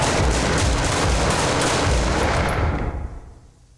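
Rapid sustained gunfire in the horror shooter Blood Mall, loud dense bursts of automatic fire filling the space before tapering off and fading near the end.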